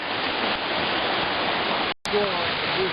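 A mountain river rushes near the Shypit waterfall in winter, a steady broadband roar of flowing water that runs throughout, briefly cut off by a short gap near the end and then resuming, with faint voices under it.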